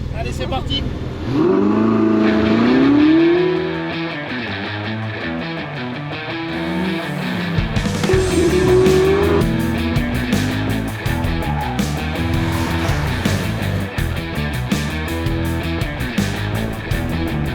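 A GT car is driven hard on a closed rally road in Corsica, its engine revving loud and close and climbing and dropping through the gears, with a passing-car sweep and steady mechanical roar throughout; a voice talks over it at times.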